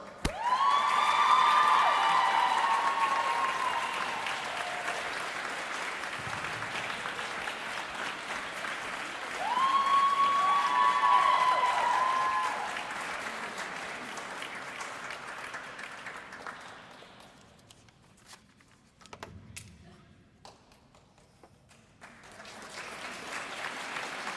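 Crowd applause and some cheering at a 2018 girls' high school swimming meet between Jefferson and Chanhassen, a sustained wave that rises twice and fades, echoing in an indoor pool setting.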